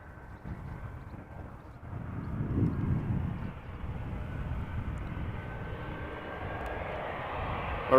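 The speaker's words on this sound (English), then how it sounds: "Arriving from Norwich is KLM flight 1516, Embraer 190" A KLM Embraer 190 airliner arriving at Amsterdam Schiphol from Norwich, its engine roar swelling and holding steady as a broad, continuous rumble with no talk over it.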